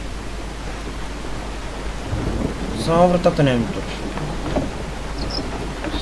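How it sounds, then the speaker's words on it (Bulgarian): In Resident Evil 7, steady rain falls outside with a low rumble of thunder swelling midway, heard beneath someone speaking briefly. "Вижте вън вали колко детално е направена играта."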